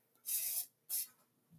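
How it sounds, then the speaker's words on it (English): Avocado oil cooking spray is sprayed onto a baking pan in two short hissing bursts, the first longer than the second, close up and with no talking. "we are going to spray this pan"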